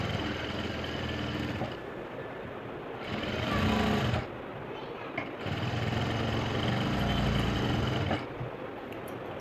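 A sewing machine stitches a blouse armhole in bursts of close, steady mechanical whirring, pausing briefly between runs.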